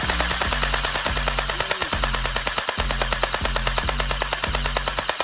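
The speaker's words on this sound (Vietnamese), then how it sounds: "Bây giờ tôi sẽ test đường đạn của em MP5 này nhá." A SIJUN MP5K blowback gel blaster fires on full auto: a loud, rapid, evenly spaced stream of sharp snapping shots with mechanical clacks, close and unbroken for about five seconds.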